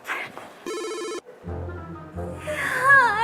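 A telephone rings loudly in a room, a steady electronic ring tone in repeated bursts with a short gap, followed by brief tonal chiming as the ringing continues alone without voices.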